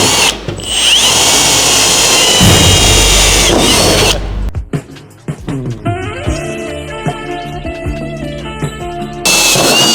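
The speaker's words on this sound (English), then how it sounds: "I'm gonna start drilling now" A power drill whirs loudly and steadily, then stops and restarts in shorter bursts of drilling holes to mount a wing spoiler on a 2022 Subaru WRX.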